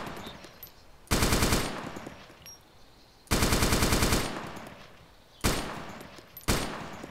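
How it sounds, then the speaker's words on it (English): Bursts of automatic gunfire in a video game, three to four loud volleys of rapid shots with quieter gaps between them, heard without talk. "I hear the shots, but I don't know where the fuck they're coming from."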